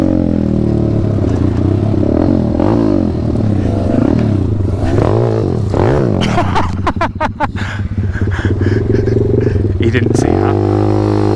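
A KTM 250 SX two-stroke dirt bike engine drones and revs close by, rising and falling under throttle with clattering chassis noise, while a voice talks over it briefly.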